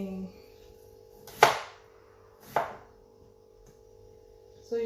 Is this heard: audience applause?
no